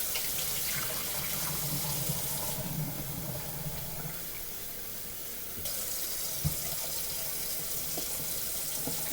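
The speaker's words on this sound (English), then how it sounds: "Turn the hot water on first, just to rinse them off." Hot water tap running into a kitchen sink to rinse shrimps, a steady close splash and hiss of flowing water with a brief change partway through and a small knock.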